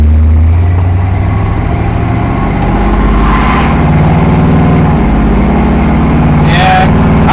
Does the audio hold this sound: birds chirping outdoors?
no